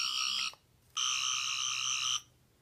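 Two bursts of a high, warbling electronic whine from a toy Doctor Who sonic screwdriver, each about a second long with a short gap between, loud and close.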